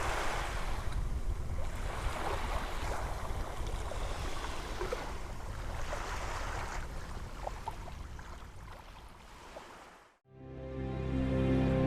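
Steady surf washing onto a secluded beach near Nassau in the Bahamas, a continuous rushing of waves with wind buffeting the microphone, then a brief cut to a different quieter segment at the very end.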